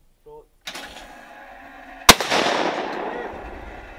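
A shotgun firing at a clay target shooting range: one sharp, loud outdoor report ringing out and decaying after a brief stretch of quiet background noise.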